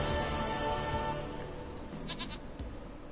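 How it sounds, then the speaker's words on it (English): A goat in The Witcher 3 bleats in a drawn-out, wavering cry, loud and close over in-game ambience, lasting a few seconds with no speech. "Goat of mine, dearest, sweetest goat."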